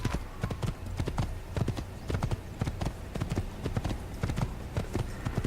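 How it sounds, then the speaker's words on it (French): Rhythmic clip-clop of galloping horse hooves in Assassin's Creed, steady and close, with a faint whinny-like tone underneath. "Allez, on va au galop."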